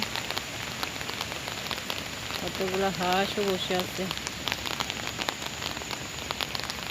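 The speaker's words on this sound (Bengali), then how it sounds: "পার্কে পুকুরে বৃষ্টি পড়তেছে" Steady rain patters densely on a park pond, a continuous hiss of drops on water, while a person speaks briefly partway through.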